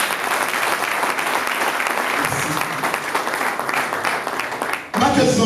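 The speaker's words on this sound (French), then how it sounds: "l'artiste mérite des acclamations" Concert audience applauding and cheering for a live music show performer, a dense, loud wash of clapping that runs steadily for about five seconds before cutting into a different louder passage at the end.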